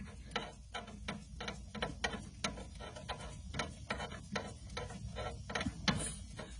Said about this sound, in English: I'll unscrew this one for the strut.